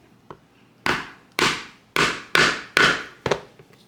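A hammer strikes a hole punch set over a hole in bag material, landing six sharp, loud whacks in an uneven rhythm, with a faint tap just before the first.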